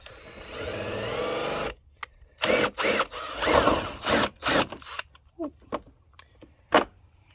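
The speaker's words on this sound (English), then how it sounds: "I got a bit holder that I just put a step-up bit in. Since we're drilling plastic, it really doesn't matter." A power drill fitted with a step-up bit cuts through a plastic fog light cover for a Jeep Gladiator, one long steady whirring run followed by a series of short, choppy bursts and pauses.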